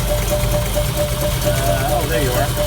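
The engine of a 1974 Chevy C10 with a wobbling crankshaft pulley is given a little throttle, a close, loud steady rumble and hum that climbs slightly in pitch near the end, with a voice audible over it.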